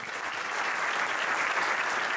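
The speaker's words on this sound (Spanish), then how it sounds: "un fuerte aplauso para él" An audience at a craft beer conference applauds a speaker from the KCBC brewery, producing a full, continuous burst of many people clapping that stays even and fairly loud for the whole stretch.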